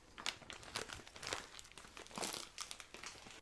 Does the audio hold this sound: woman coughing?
no